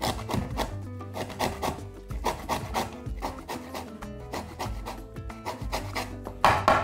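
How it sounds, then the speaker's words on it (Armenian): Lemon zest being grated for a fish casserole, with repeated scraping rasps in an uneven rhythm, close and fairly quiet, with no talking. "Նախ քերում ենք կլեպը,"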